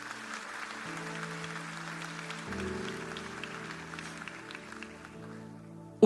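A church congregation claps together for a few seconds, a moderate spread of applause underneath sustained organ or keyboard chords, with no talking.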